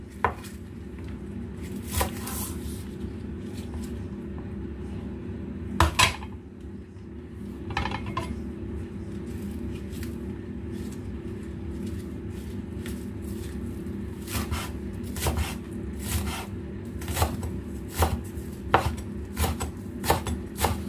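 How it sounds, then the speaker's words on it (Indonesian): Spring onions being chopped with a knife on a cutting board, a long run of irregular crisp knocks and taps over a steady kitchen hum, with a few louder thuds and occasional light clinks. "Kita akan memotong daun bawang, dan di sini kita akan menghaluskan daun bawangnya dulu ya."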